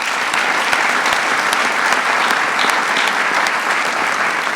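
Sustained audience applause fills a presidential press event, dense steady clapping from a large crowd with no pauses and no speech over it.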